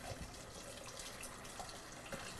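Hot tap water pours steadily into a pot of fingerling potatoes for a haddock gratin dinner, a continuous close rushing splash with no talking.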